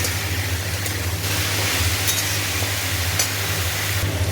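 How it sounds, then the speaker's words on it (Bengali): Potato and ridge gourd fry in a pan with a continuous, even sizzle and a low hum in the background, fairly loud and steady, with no voices. "ভাজা ভাজা হচ্ছে, এখনও ভাজা হতে একটু সময় লাগবে।"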